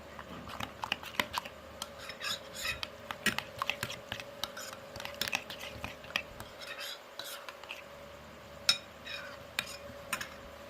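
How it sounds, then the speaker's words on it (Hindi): Spices being stirred into a yogurt-based chicken marinade: quiet, repeated spoon clinks and scraping against a bowl in an irregular rhythm over low background hum. "अब हम इसमें सारे मसालों को ऐड कर देंगे और इसको जो है अच्छी तरह से मिक्स कर लेंगे"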